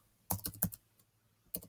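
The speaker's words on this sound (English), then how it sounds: "Now I would begin by typing who I was saving." Quick keystrokes on a computer keyboard, a burst of four or five close taps, then a pause and one more clack.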